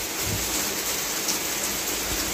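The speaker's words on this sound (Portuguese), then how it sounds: "Tá chovendo?" Steady rain falling, a constant dense hiss of drops on surfaces with no break, fairly loud and even throughout.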